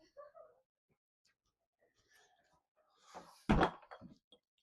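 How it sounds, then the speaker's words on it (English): A classroom door swings shut with one loud, close thud, with scattered quiet voices in the room before it. "I'm going to close this door just because I can hear Russell and it's distracting me."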